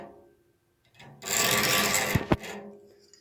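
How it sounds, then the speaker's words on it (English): A chainsaw file rasps across a bandsaw blade tooth at 90 degrees in a short scraping burst, ending with a couple of sharp metallic clicks, then falls quiet. "file at a straight 90 degrees, and then you're just gonna go like that. Just do 2 passes like that."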